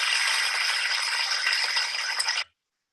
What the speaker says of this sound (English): This is the sound of hard rain.